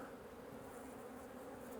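A dense, continuous buzzing of many honey bees in a hive, steady and close, with no voices.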